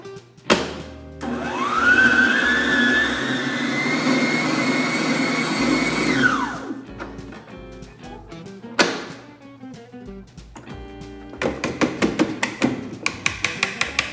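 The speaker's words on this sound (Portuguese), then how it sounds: "Em uma batedeira, vamos começar adicionando uma mistura de chantilly de 200 gramas. Vamos bater até chegar na consistência." An electric stand mixer whips 200 grams of chantilly cream mix, its motor rising into a steady high whine for about five seconds before cutting off. Clattering taps and knocks from bowl and utensils follow.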